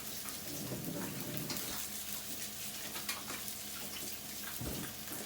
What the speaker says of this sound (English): Obviously wash my hands first.